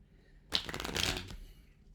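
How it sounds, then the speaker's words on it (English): Tarot cards being riffled and shuffled in humid air, one close, crisp papery burst lasting under a second over a quiet room tone. "It's been so humid, so the cards won't shuffle correctly."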